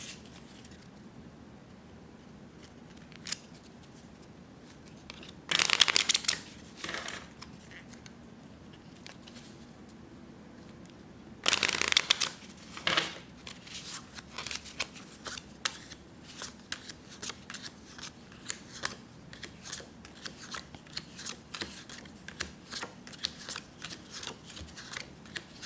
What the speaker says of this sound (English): let's shuffle for the third time